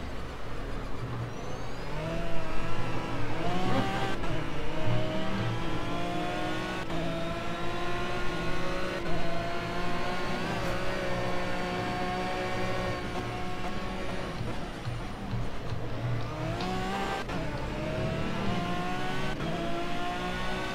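Aston Martin GT3 race car running a lap of Zhuhai at night in Project CARS, the engine droning steadily with rising and falling revs through gear changes, loud and continuous with no voices.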